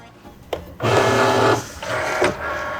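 A Cricut cutting machine loads a mat: a close mechanical whir with a steady tone runs in two stretches, set off by clicks and a clunk, with no speech.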